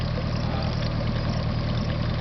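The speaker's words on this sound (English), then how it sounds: "I'm just going to shut the engine back off" Mako boat's Evinrude E-Tec 115 outboard motor running at a steady idle, a loud, even low-pitched drone with a watery gurgle underneath.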